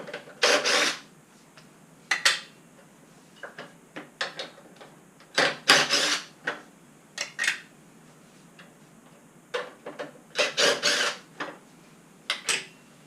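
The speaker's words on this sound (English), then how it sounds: "We'll start by removing these four bolts for the seat. They're a half inch bolt." A wrench works loose four half-inch bolts holding a seat near a fuel pump, giving close, sharp metallic clicks and rattles in short irregular bursts with brief pauses between.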